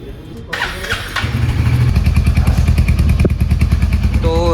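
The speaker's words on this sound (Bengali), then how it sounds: "তো এটা হচ্ছে বাইকের সাউন্ড।" A Royal Enfield Hunter 350 motorcycle cranks, catches and settles into a loud, close, thumping single-cylinder idle with a steady rhythmic beat, after a brief stretch of background voices.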